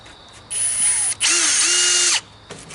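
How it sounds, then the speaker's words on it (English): A power drill drives drywall screws into wood while building the bottom of a knock-down coffin, two loud sustained whirring bursts with a brief pause between, close up and without talk. "So I'm going to use drywall screws at the bottom."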